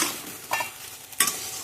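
Ground roasted spices stirred together in a frying pan for a fried sandwich filling, two short scraping strokes over a soft sizzle, close up.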